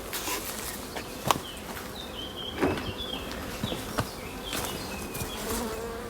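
Honey bees buzz steadily around a hive in an apiary, a continuous close drone with a few louder passes and light handling knocks, no talking.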